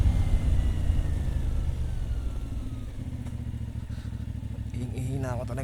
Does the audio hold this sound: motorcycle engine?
yes